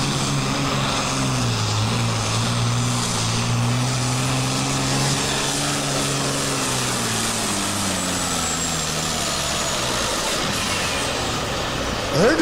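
Modified pulling tractors at a Badger State Tractor Pullers charity pull in Baraboo, Wisconsin, roar steadily throughout, a loud multi-engine drone whose pitch sags and wavers as the motors are dragged down in RPM.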